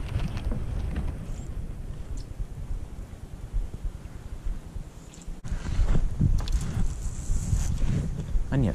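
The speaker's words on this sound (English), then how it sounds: "It's because of the wind." Wind gusting across a pond during bass fishing, a steady rumbling buffet of wind noise on the microphone that swells louder in the second half, with a person talking intermittently.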